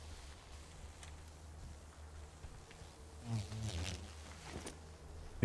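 Faint, wavering buzz of bees in a garden in the video game World of Warcraft, a low insect drone that grows slightly louder toward the end, with no talk.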